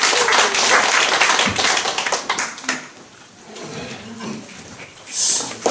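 Clapping from a seminar audience greets a group leader coming up to speak at a business success-school session, loud at first and then thinning into scattered claps and room noise.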